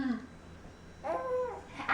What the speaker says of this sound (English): That's the sound of a baby.